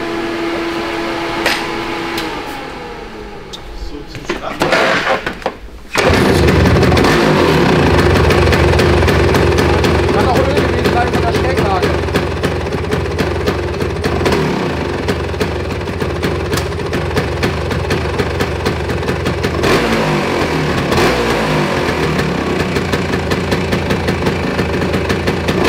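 A Vespa PX scooter engine with a slipping clutch starts up and runs loud and close, a steady rough mechanical drone with repeated rises in revs through the rest of the clip.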